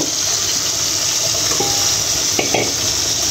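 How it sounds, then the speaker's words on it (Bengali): A large fish frying in a pan gives a steady, loud, close sizzling hiss that runs without a break, with a few faint clinks near the end. "মাছ ভাজা হয়ে যেতেছে।"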